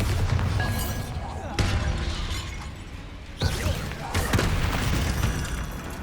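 Bombarda, the blasting spell from Hogwarts Legacy, goes off as sharp shattering explosions, one early and another midway, each followed by crackling debris over a busy game background.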